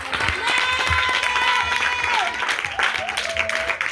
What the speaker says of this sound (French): Acclamons pour les hommes de Dieu